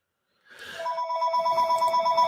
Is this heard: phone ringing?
yes